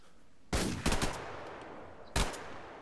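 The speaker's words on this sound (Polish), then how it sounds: "O, ktoś strzela do mnie." Gunfire in the video game Survarium: a loud shot, then a quick double shot, then a pause before one more sharp shot, each ringing briefly against a quiet background.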